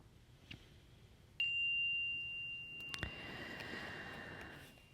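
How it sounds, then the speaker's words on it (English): A meditation chime is struck once, its clear high tone ringing steadily and fading slowly, followed by a second softer strike that blends into quiet room ambience with faint background noise. "I'm going to invite the chime to sing"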